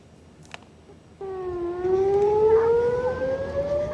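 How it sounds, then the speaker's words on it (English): An air raid siren in central Israel starts up after a faint click, rising in pitch and holding a loud, steady wail with harmonics over light background noise. "sirens blared across central Israel and Jerusalem on Saturday morning."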